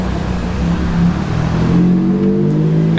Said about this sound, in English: cars are passing all the time, creating an incredible background noise